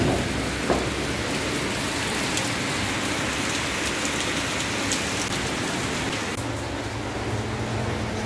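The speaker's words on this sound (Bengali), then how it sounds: "দেখো বৃষ্টি আরম্ভ হয়ে গেছে।" Rain beginning to fall outdoors, a dense, steady patter of drops on surfaces, loud and unbroken throughout.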